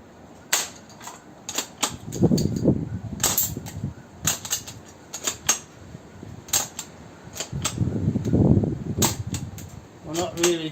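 An Umarex M1A1 Thompson airgun with a faulty gas valve, firing without blowback, gives a series of sharp dry clicks and snaps, some in quick pairs, with someone talking in between.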